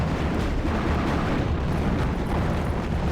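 A mortar shell exploding in a tank battle video game, a dense, loud, sustained rumbling blast filling the whole short moment with no voices.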